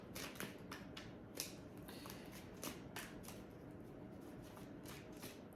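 Tarot cards are shuffled by hand in rapid riffling bursts, a soft papery flutter repeating every half second or so, close but quiet.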